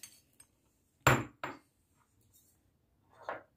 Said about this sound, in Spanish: Agregamos las nueces